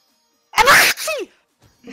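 A single sharp sneeze bursts out close up, a brief explosive burst followed by a short voiced tail, then quiet.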